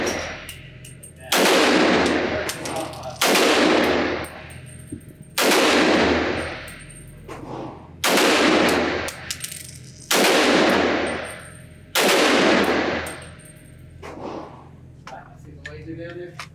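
A Q Honey Badger .300 BLK pistol, a compact AR-15, fires six loud single shots at a shooting range, spaced about two seconds apart, each with a ringing tail, and someone speaks between them.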